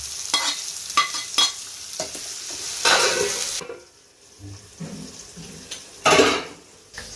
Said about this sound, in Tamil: இப்போ இஞ்சி பூண்டு பேஸ்ட்டை ஆட் பண்ணிக்கலாம்.